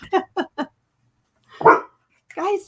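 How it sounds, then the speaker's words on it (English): Dogs at a house bark as a FedEx delivery truck pulls into the driveway: three quick barks, then a louder bark and a final bark, close and sharp with silence between. "FedEx just pulled into my driveway. My dogs are gonna lose their minds."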